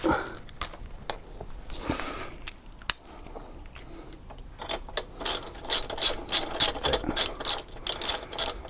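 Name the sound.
socket wrench turning motorbike chain adjuster bolt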